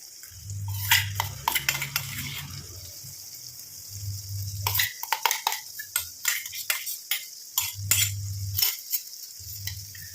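A spoon stirs a ground paste of hibiscus flowers and black cumin in a pan, giving intermittent scraping and clinking strokes up close, with bursts of low rumble between them and no talking.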